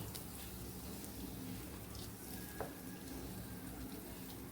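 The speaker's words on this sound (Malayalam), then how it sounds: "ഇനി നമുക്ക് ഈ കൂട്ടുകറിയിലേക്ക് ഈ മിക്സ് തട്ടിക്കൊടുക്കാം." Roasted jaggery mix tipped into simmering koottukari curry sizzles and crackles steadily in the pan, a close, even frying hiss with faint stirring scrapes.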